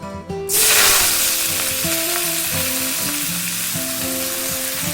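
Kharkol leaves drop into hot oil with garlic and black cumin, setting off a sudden loud hiss that settles into a continuous close sizzle, with music playing quietly underneath and no talk.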